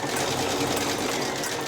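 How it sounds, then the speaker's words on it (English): A sewing machine runs an overcasting stitch along the edges of child's-dress fabric seams, a steady fast mechanical whir held unbroken and close, with no talking. "And I'm going to stitch along all of the seams so none of them fray"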